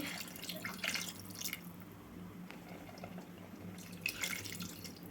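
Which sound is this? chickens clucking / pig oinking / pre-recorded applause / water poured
water poured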